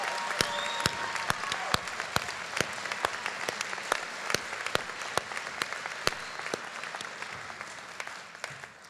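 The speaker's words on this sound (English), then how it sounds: "Please help me give our graduates a round of applause for their commitment to education, to themselves, and their futures." An audience claps for graduates at the 2022 Ferguson High School graduation, sustained applause with sharp, regular claps from a nearby clapper standing out over the crowd.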